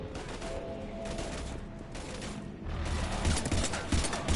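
Heavy gunfire in a Mass Effect 3 combat scene, a steady crackling barrage of shots with brief lulls that swells louder toward the end, with no talking over it.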